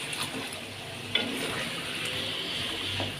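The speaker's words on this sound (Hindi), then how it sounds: "तो ये जी इसमें हम लोग डाल देंगे और इनको कर लेंगे जी चिकन के साथ अच्छे से मिक्स।" Sliced tomatoes being stirred into chicken in a frying pan for a black pepper karahi, giving a steady close sizzle with a few soft scrapes and clinks, no talking.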